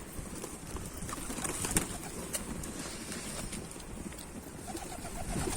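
A stray pigeon lands and coos in a low, repeated rumbling rhythm among other pigeons, close and moderately loud against a steady outdoor background with no talking.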